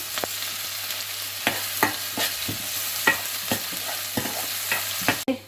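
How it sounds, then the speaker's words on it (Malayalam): Chopped onion stirred and fried in a pan, with a steady sizzle under repeated sharp scraping strokes of a spoon, close and fairly soft, no voices. "ചോപ്പ് ചെയ്ത് വെച്ച ഒന്നിയൻ നന്നായിട്ടൊന്ന് മിക്സ് ചെയ്ത് കൊടുക്കാം"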